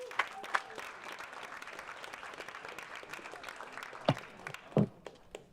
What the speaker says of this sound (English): Let's all give him a big round of applause.